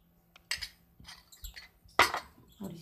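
Spoon stirring yogurt into marva (marjoram) chutney in a bowl, a few close, light clinks and scrapes against the bowl in short irregular bursts with quiet gaps between.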